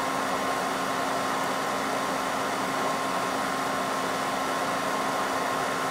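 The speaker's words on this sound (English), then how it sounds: "that's with a fume extractor, which this is not the best fume extractor in the world" A small fume extractor fan used for electronics soldering runs with a steady, even whooshing hum and a faint tonal whine, continuous and close with no variation.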